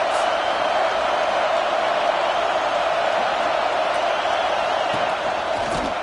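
Steady roar of a large stadium crowd at an American football game, a dense, loud wash of cheering and noise that holds constant throughout with a commentator talking over it.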